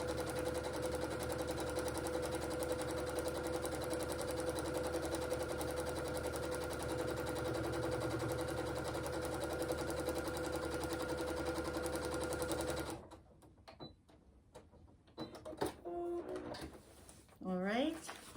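Sewing machine stitching a quilt block, a steady loud whirring run that stops abruptly near the end, followed by brief clicks and a voice talking.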